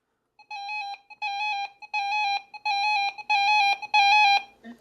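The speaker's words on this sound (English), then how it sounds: "siren tests on both radios." A RadioShack 12-521 weather radio runs its siren test, sounding a series of six loud, bright electronic alarm tones in regular bursts that grow slightly louder, with short gaps between them and no talk.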